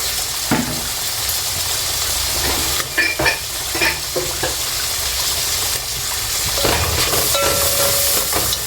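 Onions fry in a little oil in a pan, a close, steady sizzle with frequent scraping and tapping from stirring, no one speaking.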